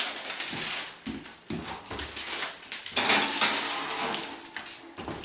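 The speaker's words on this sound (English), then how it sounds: "I'm going to put this in the oven." Clattering kitchen sounds close by as a baking dish of low-carb keto dressing stuffing goes into the oven, with repeated clanks, knocks and scrapes of cookware over several seconds.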